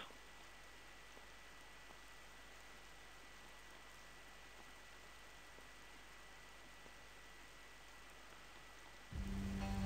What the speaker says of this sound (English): out into the rain